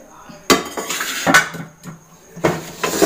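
A big pressure cooker handled in a home kitchen, giving a few loud, close metallic clanks and scrapes of cookware, separated by short quieter gaps.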